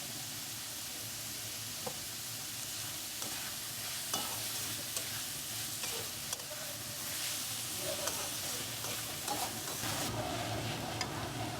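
Vegetables for homemade samosa filling sizzle in oil in a pan, a steady broad frying hiss broken by occasional clicks of a spoon stirring, close and even, with no voices.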